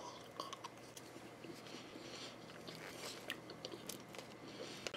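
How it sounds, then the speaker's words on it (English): Cheese curds from curly fries poutine chewed close up, soft crunchy bites and wet mastication repeating irregularly, quiet and alone with no voices. "Let's try some cheese curds by itself."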